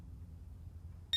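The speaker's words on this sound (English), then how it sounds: "That external beep means it's unpaired" A Pro-Pointer AT Z-Lynk pinpointer gives a single sharp electronic beep as it unpairs, sounding at the very end after near-silence with a faint low hum.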